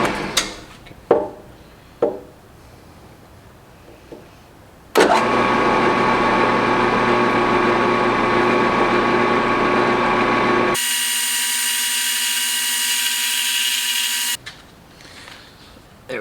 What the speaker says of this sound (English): send that drill press right in through the middle.